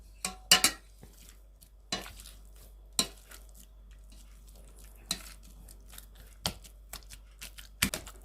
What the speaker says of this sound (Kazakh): Өзің картоптың асылған суында езетін боламын